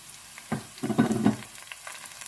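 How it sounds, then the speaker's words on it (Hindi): Onions sizzle and fry in a pan with browned garlic and ginger for a Pakistani chana mash dal, a crackling burst that swells and fades close by with no talking. "यहाँ प्याज हमारा फ्राई होना शुरू हो गया है"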